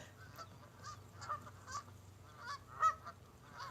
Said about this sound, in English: These geese is running out of nowhere.